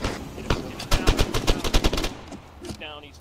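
Automatic rifle fire in the Arma 3 Antistasi mode: rapid bursts of loud, close gunshots, sharply rhythmic for about two seconds, then fading into quieter distant shots.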